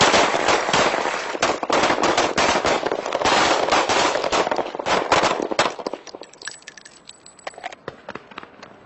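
Rapid volleys of pistol gunfire at a sheriff's shooting range, dense overlapping shots for about six seconds, then thinning to scattered individual reports that trail off into quieter range ambience.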